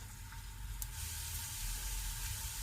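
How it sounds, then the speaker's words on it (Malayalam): Finely chopped ginger sizzling in hot coconut oil in a pan while cooking an anchovy roast, a quiet, steady crackling fry hiss with a couple of faint pops. "അപ്പോൾ ഓയിൽ ചൂടായിട്ടുണ്ട്. അതിലേക്ക് ഒരു ചെറിയ പീസ് ഇഞ്ചി ചെറുതായിട്ട് അരിഞ്ഞതാണ്,"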